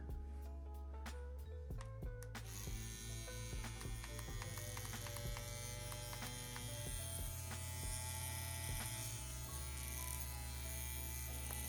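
A CNC X-WE-Pro machine running, giving a steady low electric hum and buzz with faint ticks and clicks on top, quiet and continuous throughout.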